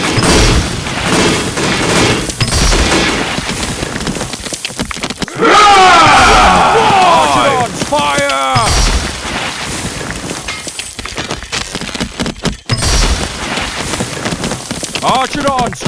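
Archidon archers loosing a volley in the Stick War Legacy game, a dense crackling burst of arrows with whistling, sweeping tones layered over battle noise and music, repeated in several waves.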